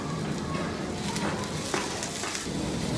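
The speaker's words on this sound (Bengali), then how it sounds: "আর একটু ক্যাপসিকাম ছিল সেটাও দিয়ে দিলাম, দিয়ে এটাকে মিনিটখানেক ভেজে নিলেই হয়ে যাবে।" Vegetable filling with capsicum fries in a pan for a snack bread stuffing, giving a steady close sizzle with a few soft stirring scrapes and no talk.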